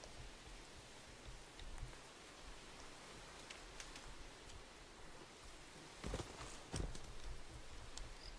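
Horse hooves clip-clop in the video game Where Winds Meet, a soft, steady rhythmic plodding under a hiss of ambient noise, with a few sharper, louder hoofbeats standing out near the end.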